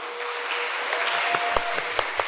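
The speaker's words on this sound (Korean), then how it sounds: "9학년을 위해서 박수." A church congregation applauds ninth-grade students during a Wednesday worship service, a steady wash of clapping from many hands with a few sharper individual claps standing out.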